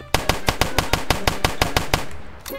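Gunshots in the Roblox street game Streetlife: a steady, evenly spaced run of about a dozen loud, close shots fired in quick succession, then a brief pause and a softer clatter at the end.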